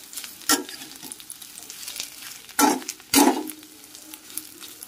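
Pounded sun-dried garlic fries in oil with a soft steady sizzle, broken by three louder bursts of crackling as it is stirred.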